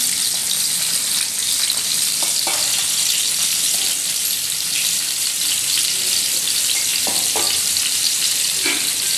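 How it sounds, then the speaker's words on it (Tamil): Small and large onions sautéing in oil with fennel, a dense, constant loud sizzle with occasional stirring knocks, close up and without speech. "வெங்காயம் எல்லாத்தையும் நல்லா வதங்க விட்டுடலாம்"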